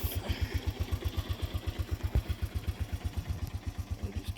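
A 1987 Honda TRX125 ATV engine idles after a cold start with the choke fully off, a steady, close, rapid low thumping pulse with light mechanical clatter and no talk.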